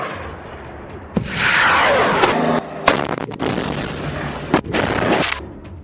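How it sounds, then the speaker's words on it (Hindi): Hamas rocket salvo launched by remote control, heard as a string of loud booming launches and whooshing roars fired one after another in close succession, with no talk. "इसके बाद ये मिसाइलें एक के बाद एक फायर होने लगती हैं"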